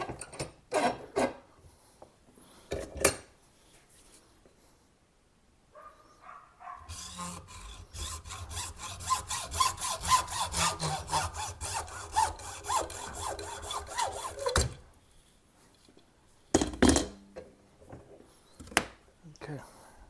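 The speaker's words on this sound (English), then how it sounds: "So let's cut that PVC right there." Hacksaw cutting through PVC pipe, a rhythmic back-and-forth rasping of quick strokes lasting several seconds, close up, with someone talking before and after and a few knocks from handling.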